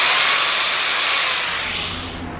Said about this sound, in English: And this grinder.